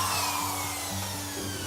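A drill bit bores through a wooden wheelbarrow handle, giving a continuous close grinding whine with a steady motor hum and no pauses throughout the short stretch.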